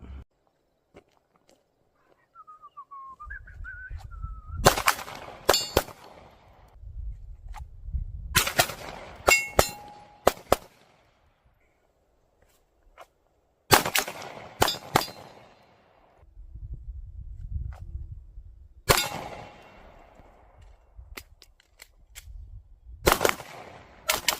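Pistol shots ring out at an outdoor shooting range, sharp loud cracks fired in several quick bursts with gaps between them, plus scuffing and movement sounds in the pauses.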